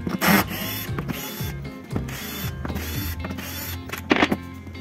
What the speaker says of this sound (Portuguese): vou ter que parafusar a base aqui.